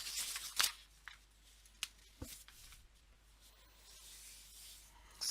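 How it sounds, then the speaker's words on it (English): A paper sewing pattern being folded, with quiet crisp crinkles, rustles and a few sharp creasing snaps close by, mostly near the start, then fading to soft handling. "what I'm going to do is I'm going to fold the pattern down this middle line that goes from top to bottom"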